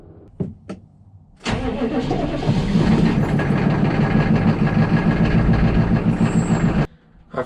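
An 1980s Honda CRX, left sitting a long time under a tarp, cranks with a couple of short bursts, then catches and runs loud and steady for several seconds before cutting off, recorded close outdoors in light rain.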